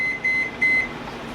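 While homemade granola bars bake, a kitchen timer goes off with three loud, steady electronic beeps in quick succession, with nothing else heard.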